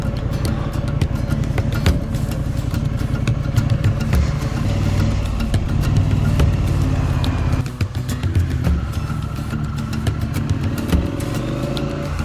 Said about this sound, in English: Right, let's get on the bike and we'll talk a bit more about her.